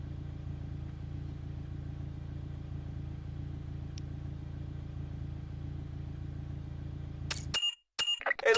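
Toyota Celica in Need for Speed Underground, a steady engine drone idling or revving at an even pitch for most of the stretch, then cutting out abruptly near the end before a few sharp bursts return.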